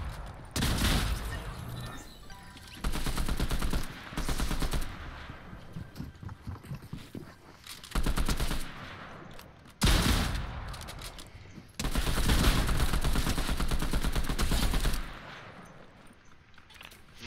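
Bursts of gunfire in a video game, several loud volleys of rapid shots separated by short quieter gaps, with no talk over them.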